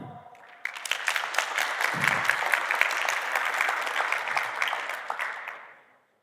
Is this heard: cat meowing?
no